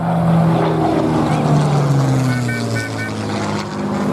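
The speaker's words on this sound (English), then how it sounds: "There we go, ladies and gentlemen, that's the Spitfire." A Supermarine Spitfire passes over a steam rally with a loud, sustained piston-engine drone whose pitch slides downward as it flies by, and a crowd murmurs faintly beneath it.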